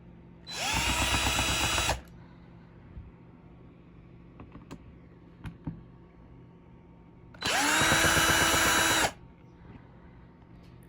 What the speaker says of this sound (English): So let's go ahead and undrill that.